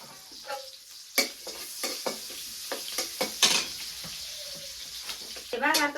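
Onion frying in a pan, a moderate sizzle under repeated spatula clicks and scrapes, with a brief faint voice in the background.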